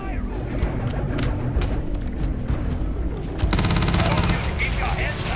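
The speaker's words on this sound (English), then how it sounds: "Heavy fire over here." Heavy gunfire crackles in a Starfield firefight, a dense wash of rapid shots and bursts under a tense combat mix that swells louder midway, with a voice speaking through the chaos.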